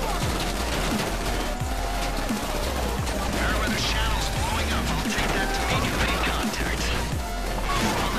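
Rapid bursts of gunfire in GTA V Online on PC, dense and continuous over a busy background of game effects, with players talking throughout.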